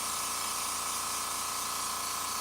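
Airbrush spraying paint onto Warhammer 40K terrain, a steady, even hiss of air held at one level throughout, close and alone with no talk.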